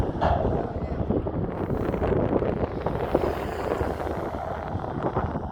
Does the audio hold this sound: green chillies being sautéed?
no